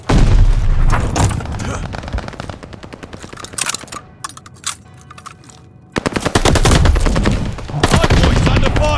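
Heavy gunfire at a hardpoint in the Call of Duty: Vanguard video game: dense bursts of machine-gun and rifle fire with booming impacts, loud and close, dipping briefly midway before erupting again with sustained rapid shots.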